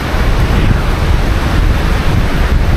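Strong wind roars across a mountainside on Mount Wilis, a loud, continuous buffeting rush battering the microphone without pause.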